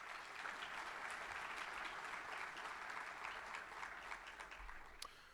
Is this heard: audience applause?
yes